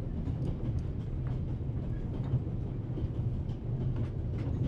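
A passenger train in The Raven Remastered rolls along its rails with a continuous low rumble and faint rhythmic clatter, steady and moderately loud, with no voices present.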